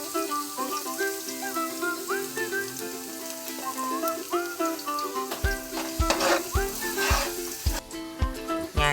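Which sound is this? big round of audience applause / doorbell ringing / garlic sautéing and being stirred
garlic sautéing and being stirred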